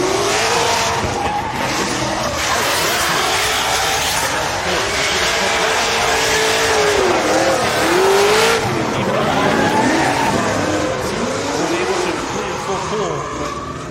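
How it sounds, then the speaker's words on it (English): A drift car driven aggressively in a Klutch Kickers drift series competition, engine roaring loud and continuous with wavering revs and tire squeal for the whole stretch, a commentator talking over it. "Alec, the way how he drives that car is savage"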